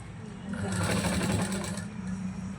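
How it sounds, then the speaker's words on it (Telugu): A sewing machine stitches a baby frock in a steady fast close whir that swells in the middle, while someone talks over it. "సేమ్ ఇదంతా కూడా అలానే స్టిచ్ చేసుకున్నాము"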